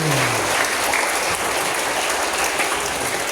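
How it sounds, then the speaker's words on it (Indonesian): Applause from a gathering at a belt-rank promotion exam for a martial arts club, a dense, even wash of clapping that holds steady for several seconds with no talking. "Tepuk tangan dulu untuk salamnya."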